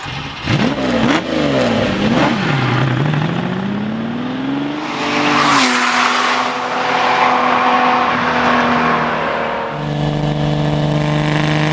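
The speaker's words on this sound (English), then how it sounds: "I'm driving a 1970 Lamborghini Miura S." A 1970 Lamborghini Miura S engine revs loudly while driving, rising and falling through several quick blips, then pulls in a long sustained climb through the gears, close and with no talk.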